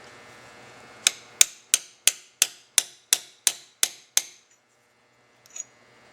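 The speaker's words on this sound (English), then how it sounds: "just take your hammer with your punch, put it on top of it like this, and just tap the thing in" A hammer taps a punch to seat a part in a Carter 3405S carburetor: ten sharp, evenly spaced metallic taps, close and crisp, followed after a pause by one faint click.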